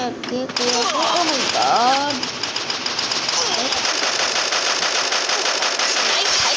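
Rapid bursts of gunfire from the mobile game Free Fire rattle continuously, mixed with game sound effects and a voice talking over the shooting.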